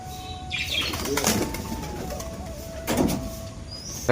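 Pigeon wings flap in two bursts, a fluttering whir near the start and another near the end, over quiet outdoor background.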